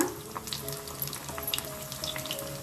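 Sabudana cutlets frying in a hot pan give off a soft, steady sizzle with scattered faint crackles and pops, fairly quiet and close, with no talking over it.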